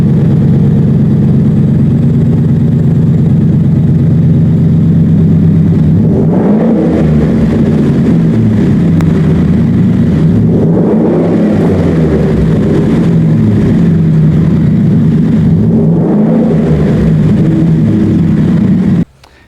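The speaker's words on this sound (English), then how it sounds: "With this V8 engine and the supercharger, it's going to give you a fabulous sound." A 2020 Ford F-150 with a supercharged V8 rumbles loud and close, its low exhaust note swelling and easing through several revs before cutting off abruptly at the end.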